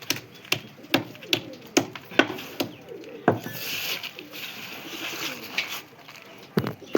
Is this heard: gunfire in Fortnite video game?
no